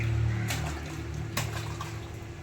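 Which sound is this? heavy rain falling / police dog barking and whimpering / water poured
water poured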